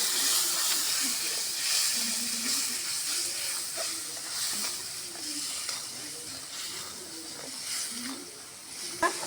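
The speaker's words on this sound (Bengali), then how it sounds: "এখন মশলাটা কষে নিচ্ছে" Spice paste with chili powder sizzles in hot oil while being stirred, a steady close hiss with soft scraping and occasional faint pops throughout.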